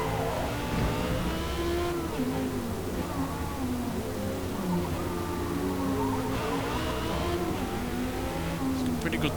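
A mid-engine all-wheel-drive car in Forza Motorsport accelerates hard, its engine note rising and falling through gear changes in a continuous, loud drone.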